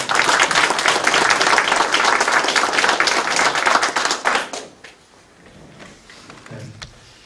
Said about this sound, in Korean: 다 같이 감사의 마음을 담아서 큰 박수 한번